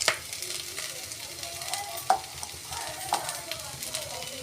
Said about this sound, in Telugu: ఇప్పుడు 4 పచ్చిమిరపకాయలు 2 ముక్కలుగా, ఇదిగోండి 4 పచ్చిమిరపకాయలు 2 ముక్కలుగా ఇట్లా చింపి వేపుకోవాలి.